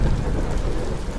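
A thunderstorm with heavy rain: a dense, loud, steady wash of downpour with a deep rumble of thunder underneath, heard briefly and with no voices.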